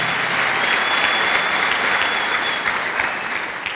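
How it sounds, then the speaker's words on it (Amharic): An audience at a church testimony gathering claps, a dense, loud and sustained burst of applause from many hands that continues without a break and fades slightly at the end. "አጨብጭቡላት"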